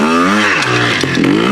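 A Yamaha TY 250 trials motorcycle engine revs loud and close, its pitch climbing and dipping through short throttle blips with a slight mechanical clatter.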